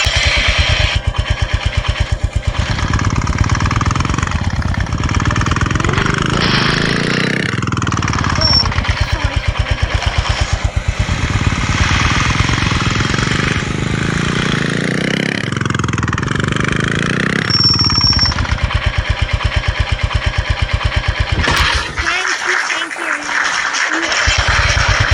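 Royal Enfield Bullet motorcycle engine in an Indian GTA-style video game, a steady loud thumping drone that revs and shifts a few times, running under someone talking, then cuts out near the end.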